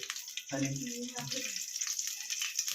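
Water pours and splashes while beef biryani is being cooked, a faint, steady hiss that runs beneath a short stretch of nearby voice.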